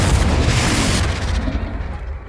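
A Confringo spell explodes in Hogwarts Legacy with a loud booming blast and deep rumble, holding strong for about a second before the crackling tail decays over the next second.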